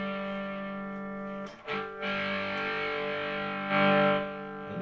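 Electric guitar through a 1978 Marshall Master Lead 2199 solid-state amplifier with its bright channel cranked: loud, buzzy distorted chords ring out, break off briefly, then are struck again and sustained.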